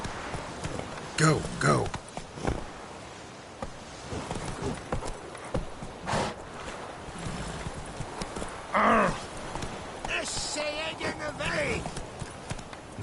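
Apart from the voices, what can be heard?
horse Roach galloping in video game Witcher 3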